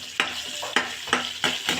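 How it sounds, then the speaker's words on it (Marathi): Rava upma with peanuts being stirred in a frying pan: about five rhythmic spatula scrapes at steady intervals over a soft continuous sizzle, close and clear with no talking. "आता याला मस्त थोडंसं हलवून घ्यायचं, एक 10-20 सेकंद."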